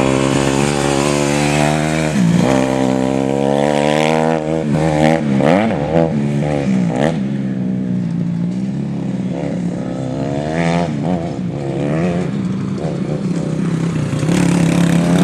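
A motorcycle engine warming up after sitting unridden for a while, loud and close, holding a steady buzzing idle while the pitch rises and falls through repeated revs the whole time.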